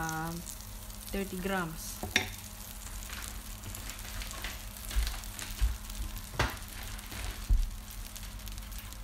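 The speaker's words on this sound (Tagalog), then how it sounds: "ilalagay na natin ang ating butter" Butter sizzling in an Instant Pot for lamb biryani, a crackling fry hiss with a few clinks and knocks, while a person speaks briefly over it.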